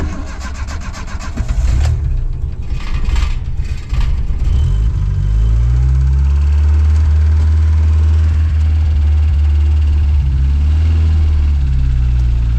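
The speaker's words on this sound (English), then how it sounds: "I wish it didn't idle so fast." A Dodge Charger 2.2 with a worn, holed floor idles fast and loud, a steady low engine drone running throughout after a few brief clunks and revs near the start.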